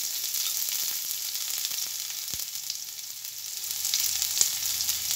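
Chopped onion, garlic, green chili, whole cumin and a bay leaf frying in hot oil, a steady close sizzle with occasional stirring scrapes and no talking.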